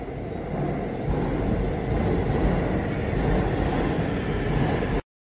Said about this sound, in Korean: 반대편으로 승강장이 있고 가운데로 지하철이 들어옵니다